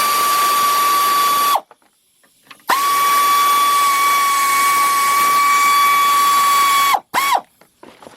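A powered ratchet whirs a 10mm bolt out of a plastic cover on a 1991 Mercury Capri, with two long steady runs separated by a pause, then a short final burst.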